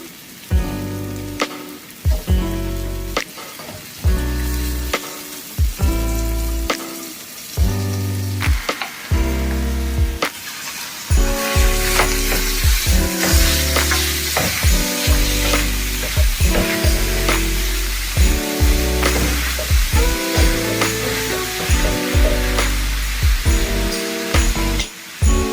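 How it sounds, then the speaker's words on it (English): Ground beef and tomato sauté in a pan for a pasta and mushroom dish, giving a steady loud sizzle with occasional stirring scrapes, heard under continuous background music. "We're gonna add our ground beef."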